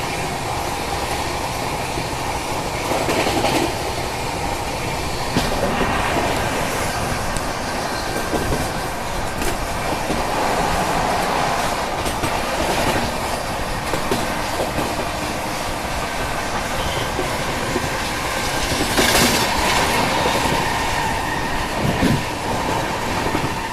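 The Ranchi Rajdhani Express runs without stopping through Prayagraj Subedarganj railway station, giving a continuous loud rumble and clickety-clack of wheels on track with occasional squeals.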